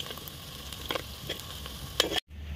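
Steady frying sizzle of onions sautéing in a pan for a Tamil dried-fish curry, with a few clinks and stirring scrapes, fairly close, no voices, ending in a brief cutoff.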